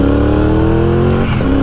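A 2021 Triumph Bobber motorcycle engine drones steadily close up, then briefly blips and rises in revs during a downshift into first gear before settling back to a continuous loud hum.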